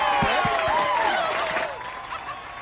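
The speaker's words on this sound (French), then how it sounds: "Applaudissez bien fort le roi et la reine." An audience at a prom applauds the newly crowned king and queen with loud, steady clapping and crowd noise, while a voice or tonal sound rises over the din.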